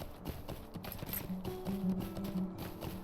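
Horse hooves clip-clop in a steady rhythm in Lord of the Rings Online, a close, moderately loud walking gait with regular hoofbeats, no talk over it.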